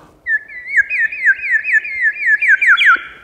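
A person whistles a quick series of rising-and-falling chirpy notes, about a dozen in a steady rhythm, loud and close, alone without speech.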